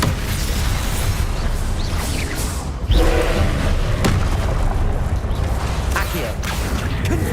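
Confringo fire spell explosions in Hogwarts Legacy on PS5, dense booming blasts and thuds over continuous game noise, with a sharp impact near the middle.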